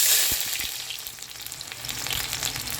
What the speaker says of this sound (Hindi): प्याज डाल के हमें इसको ब्राउन करना है